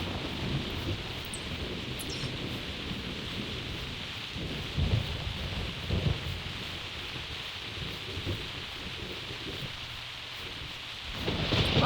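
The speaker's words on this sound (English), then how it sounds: "They really know how to do the thunderstorms, though. Those just sound powerful." A thunderstorm in the video game theHunter: Primal: steady rain hissing on surfaces under rolling thunder that swells in low rumbles, growing louder toward the end, with no voices.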